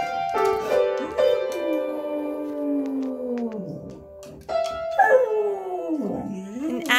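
A beagle howls in long, sustained, wavering tones, with two drawn-out howls separated by a short break, close and fairly loud, with a few yips mixed in at the end.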